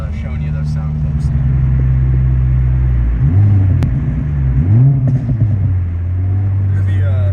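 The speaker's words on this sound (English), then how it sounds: "Here's the third gear pull right here. This is with the burbles, obviously." A 2023+ Honda Civic Type R with an HKS SQV4 blow-off valve and recirculation kit pulls hard through third gear. The loud, close engine drone shifts pitch as it builds and ends in burbles.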